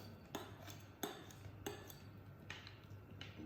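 A metal knife is picked up and handled on a kitchen counter while trimming a homemade apple pie crust, giving several soft, close clinks and taps at irregular intervals over a low steady hum.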